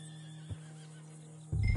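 A horse whinnies in a steady drawn-out call under a constant low hum, ending with a louder rough burst near the end.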